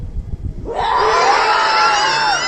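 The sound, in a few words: schoolchildren imitating a lion's roar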